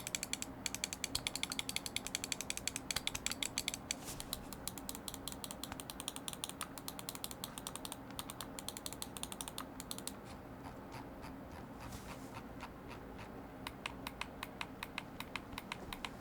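An ASUS ROG KERIS II gaming mouse gives rapid, crisp clicks and a ratcheting scroll wheel, dense and close at first, then sparser, quieter clicking.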